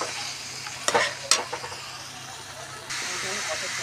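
Boiled raw jackfruit is stirred into fried spices and potato in a hot pan, giving a steady sizzle with two sharp spatula scrapes early on and a louder, denser hiss near the end.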